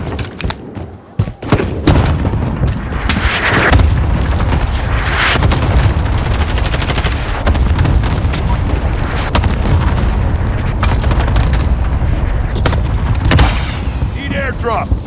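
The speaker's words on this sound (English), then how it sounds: "Enemy cluster strike." Cluster strike explosions in Call of Duty Modern Warfare 2019 roll in as a long barrage of heavy booms and thuds, loud and dense over about fifteen seconds, with a voice talking in places.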